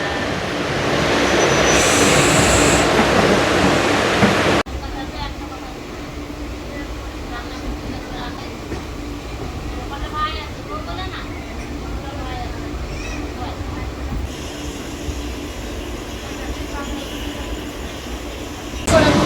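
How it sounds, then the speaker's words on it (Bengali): A train pulls into Gosaigram station, a small stop seven kilometres past Azimganj, on a night run; a loud rumbling rush drops to a steady hum of the carriage idling, with faint voices and movement around. "ট্রেন এসে পৌঁছালো গোসাইগ্রাম বলে একটা স্টেশন।"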